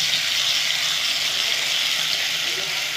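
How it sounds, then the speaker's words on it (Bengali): A paste of mustard, poppy seed and sesame fries with potatoes in hot oil, making a steady, close, fairly loud hiss and sizzle throughout with no clear pauses. "এখানে কী কী দিয়েছি তোমাদের দেখিয়ে দিয়েছি, সর্ষে, পোস্ত আর তিল দিয়ে দেবো।"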